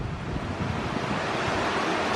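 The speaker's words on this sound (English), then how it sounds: "Here's the bottom of the falls." Rushing water roars at the base of a waterfall in Ouray, a loud, steady broadband wash with some wind buffeting the microphone and no pauses.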